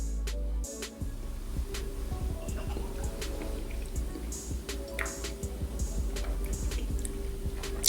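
High West Campfire whiskey poured into a glass, close up, with a run of small drips, splashes and liquid trickles over about eight seconds and a low steady hum underneath.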